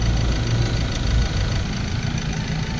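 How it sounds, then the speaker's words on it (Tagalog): Ford Ranger 2.2 diesel engine with a low-power issue runs steadily at idle, a close, continuous low rumble with a faint knocking texture and no talk over it. "Pakinggan nyo ang andar ng makina ngayon."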